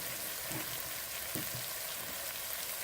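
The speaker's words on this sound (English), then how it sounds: "the oil is sizzling and starting to separate" Oil sizzles and crackles steadily in a thick chicken curry gravy in a home kitchen pan, a continuous close, soft frying hiss with occasional stirring bumps and no talking.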